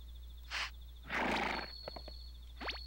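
A horse neighs in Harvest Moon 64, short bright whinnies heard alone against quiet game background, with a brief snort and a high rising call at the end.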